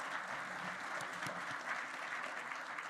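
An audience applauds founders after a round of pitches at a startup event, with steady, dense clapping continuing evenly for the full stretch at moderate volume and no talk over it.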